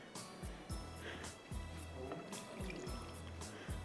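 Half a cup of water is poured into a cooking pan with chicken and spices, a brief liquid splash and trickle over background kitchen noise.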